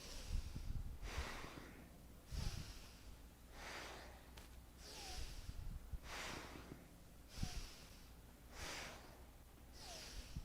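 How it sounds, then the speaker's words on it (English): Quick, complete yogic breaths during a Kundalini-inspired yoga class, a steady rhythm of about eight strong nasal inhale-exhale cycles, close and breathy, with no talking. "These are yogi breaths we're taking. Yogic breaths, complete but quicker, not breath of fire."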